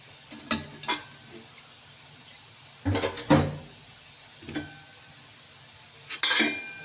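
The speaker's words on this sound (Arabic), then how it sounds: "اديها بقى تقليبه بالشوكه كده" A fork stirs softened pasta in a pan with clinks and scrapes in short, separate bursts around a faint steady hiss of cooking, fairly close, with no talking.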